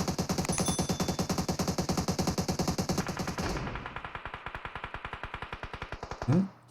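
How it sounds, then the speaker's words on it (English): Steady automatic gunfire in a PUBG Mobile esports league match, a long even stream of rapid shots that runs for about six seconds, a little quieter and drier in the second half, with no talking. "the fire does start coming down now from Phoenix, who are just across from them. Here come the shots."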